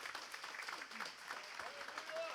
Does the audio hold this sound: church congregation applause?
yes